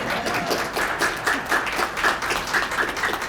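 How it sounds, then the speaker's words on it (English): Applause from an audience at a public forum on the census, steady rapid clapping from many hands throughout, moderately loud with no talk over it. "You really should have clapped right there."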